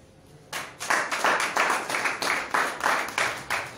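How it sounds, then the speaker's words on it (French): A conference audience in Côte d'Ivoire breaks into clapping, coming in as a rhythmic, evenly spaced pattern of strong claps that keeps a steady beat for a few seconds. "Et ça s'applaudit"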